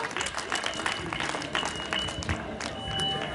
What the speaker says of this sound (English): Pia Yesu makofi.